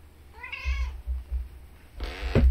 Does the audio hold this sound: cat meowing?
yes